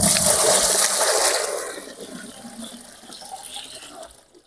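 Water pours steadily into a home garden fish pond, a loud rushing gush at first that tapers into a softer trickle and fades out.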